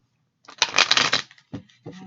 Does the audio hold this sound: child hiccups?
no